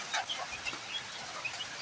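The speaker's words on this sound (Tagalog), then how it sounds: "tayo ay muna magpapakain muna ng ating mga alagang manok." Soft, scattered clucks and chirps from chickens nearby, short irregular calls over a steady background hiss.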